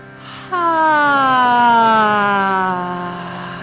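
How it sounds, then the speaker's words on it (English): A single emergency vehicle siren outside a building in San Francisco wails loud and close, its pitch sliding steadily downward over a few seconds, with a faint background hum before it starts. "those sirens outside of this building that we hear every so often in San Francisco"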